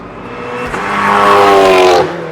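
A race car on a track warming its tyres, engine note rising as it accelerates and passes close and loud, then easing off, no talking.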